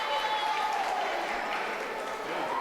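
A crowd at a live wrestling show cheers and claps in a dense, sustained roar, with an announcer's commentary running over the noise.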